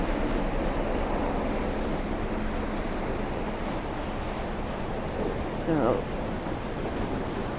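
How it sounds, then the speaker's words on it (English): Gentle sea waves roll in on a calm, misty morning at Blackpool promenade, a soft continuous wash of surf with a brief word spoken over it. "these waves rolling in gently and beautifully"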